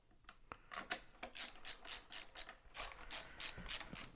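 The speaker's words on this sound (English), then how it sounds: "Look at that ratcheting screwdriver with the strong magnet tip." A ratcheting screwdriver with a magnetic tip drives screws while reassembling a compact Mac, its pawl clicking in quick, steady bursts close by, with no talking.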